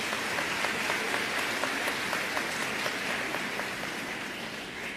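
A large church audience applauds the people from San Miguel, dense sustained clapping like steady rain, moderately loud and even across the room, with no voices over it.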